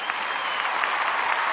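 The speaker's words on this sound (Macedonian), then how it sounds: "Овие сами си даваат аплауз" Studio audience applause on a comedy show: a steady, dense wash of clapping from a crowd, fairly close and even in level throughout.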